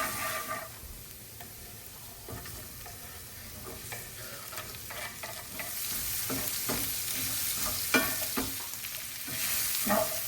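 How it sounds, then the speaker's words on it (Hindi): Mushroom and spinach stir-frying in a pan, a continuous close sizzle that grows slightly louder, punctuated by frequent spatula scrapes and tosses, with no one speaking. "तो ये है मेरा तरीका एक क्विक सी मशरूम और स्पिनच स्टर फ्राई बनाने का"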